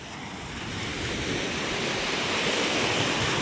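Rough sea surf breaks continuously on the shore in a steady, loud roar that builds slightly, with a windy hiss and no talking.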